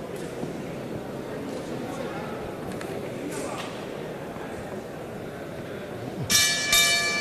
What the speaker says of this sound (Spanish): sonó la campana